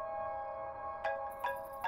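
An incoming call rings on a mobile phone: a steady electronic tone holds while three bright chirps pulse through it at regular intervals, faint and alone.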